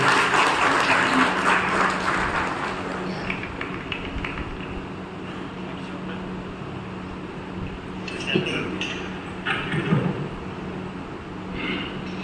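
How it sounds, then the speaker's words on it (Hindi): Clapping from an audience greets Dr. Kalam at a Brahma Kumaris health programme. It is loudest in the opening seconds and then thins into a softer patter over a steady hum, with some indistinct voices and scattered knocks. "सभी जोर से तालियां बजाइए डॉक्टर कलाम के लिए।"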